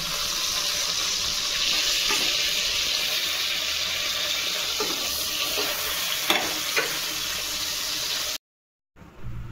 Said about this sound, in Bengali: মুলো ভাজতে দিয়েছি।